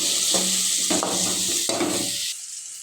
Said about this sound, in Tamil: வெங்காயத்தை போட்டு நல்லா வணக்கி விட்டுருங்க